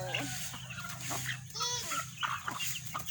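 Chickens clucking close by at a rural farmyard among elephants, several short bursts of fowl calls scattered over a low steady hum, with a voice talking between them.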